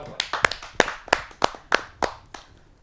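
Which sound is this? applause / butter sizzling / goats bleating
applause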